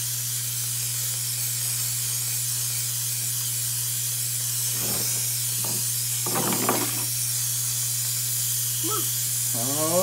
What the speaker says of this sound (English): Well, yeah, it's steam, Ethan.